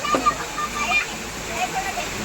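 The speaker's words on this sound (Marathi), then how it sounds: "बाहेर पाऊस लय जोरात चालू आहे" Heavy rain pouring down outside, a steady, dense hiss and splash heard close and loud throughout, with a voice talking over it.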